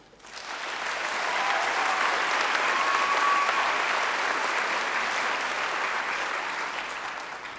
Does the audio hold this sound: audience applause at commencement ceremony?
yes